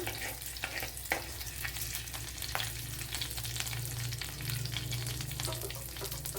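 Cumin seeds fry in a pan for a green mango curd curry, giving a steady close sizzle with occasional stirring scrapes and no talking.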